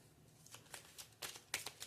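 Gypsy deck tarot cards being shuffled in quick riffling bursts, soft and close, with faint hum underneath and no voices.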